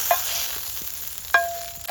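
Green chillies fry in a pan, giving a soft steady sizzle with a couple of sharp utensil clinks against the pan, close and fairly quiet.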